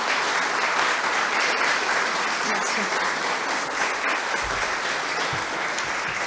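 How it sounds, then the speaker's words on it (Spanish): A lodge audience applauds its guest speaker after a talk on Freemasonry, dense continuous clapping throughout, with a brief spoken word of thanks heard over it. "Brindamos un aplauso entonces a nuestra invitada de hoy."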